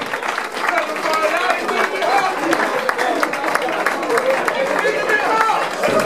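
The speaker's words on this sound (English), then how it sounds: "I want a big round of applause for Scott Hatley, who's Club Man of the Year for Aveley" A crowd claps steadily for Scott Hatley, Club Man of the Year, at the Aveley FC presentation night, a dense, even patter of many hands filling the room for about six seconds with no break.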